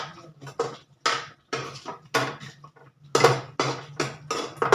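Chicken curry is stirred in a cooking pot, a spoon scraping and clinking against the metal in a series of distinct, close strokes with short pauses between them, and no talking.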